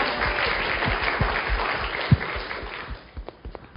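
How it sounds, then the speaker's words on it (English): An audience applauds a speaker at a talk, a dense burst of clapping that thins out toward the end with a few scattered claps. "Give Haley a round of applause."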